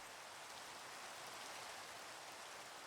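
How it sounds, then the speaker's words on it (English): Rain falling in Minecraft, a continuous soft, even hiss that holds steady for a few seconds, quiet and without speech. "Go away, rain."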